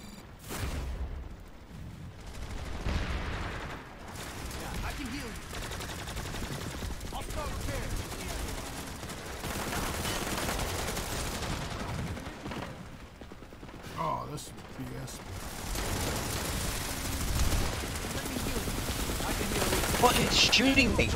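Sustained automatic weapon fire from Planetside 2 rattles on and off over a long stretch, with thuds and explosions in a busy battle mix while someone talks throughout.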